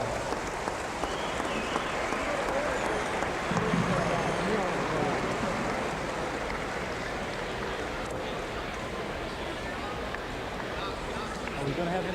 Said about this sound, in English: How about a big round of applause for these 6 gentlemen?